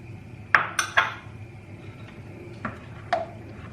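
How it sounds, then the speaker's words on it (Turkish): A brush spreading vegetable oil across a heated pan on the stove while making crêpes, heard as a few sharp clinks and knocks of metal against the pan at irregular intervals, fairly close, with quiet stretches between and no voices. "Şimdi şöyle fırça ile de sıvı yağ sürüyorum tavamın her yerine"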